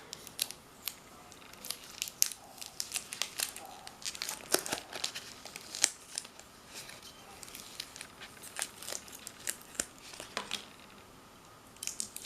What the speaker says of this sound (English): So just simply and slowly start peeling off the heart.